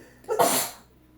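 A single sharp sneeze, close and fairly loud, with a quick breathy burst that fades within a second.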